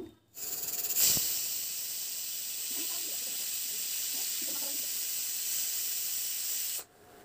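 A pressure cooker cooking chickpeas on a gas stove lets out a loud, steady jet of hissing steam that starts abruptly, holds for about six seconds, then cuts off sharply.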